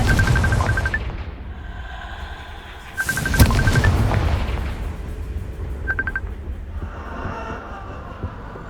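A Confringo fire spell goes off in Hogwarts Legacy, a loud bursting blast with a crackling tail around mid-clip, set amid softer game ambience and chiming effects.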